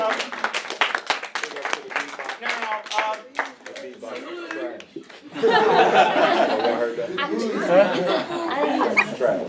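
Students clap during a middle school visit, starting with scattered quick claps amid chatter and laughter, then swelling into fuller, louder applause mixed with voices and cheering.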